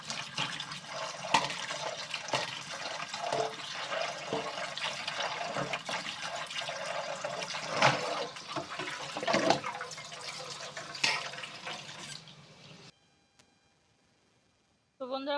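Tap water runs steadily over freshly cut sweet pumpkin pieces being washed in a kitchen, a continuous splashing flow with brief louder surges, ending abruptly before a short quiet stretch.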